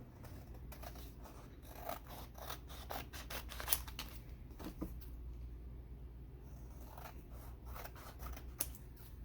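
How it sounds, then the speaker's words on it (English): Scissors trim excess paper around a handmade card in a series of quiet, close snips and rustles, with short pauses between cuts and no talking. "I'm going to use my card as a guide just to trim around it."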